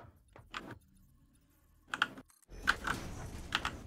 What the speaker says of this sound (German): Junge, deine Tastatur, die triggert.